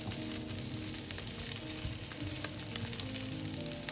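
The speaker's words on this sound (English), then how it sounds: "Once the oil is hot, add the beef and spread it out evenly." Beef searing in hot oil in a wok for Chinese braised beef and potato, a dense steady sizzle with crackling pops and some stirring, close and continuous with no talk.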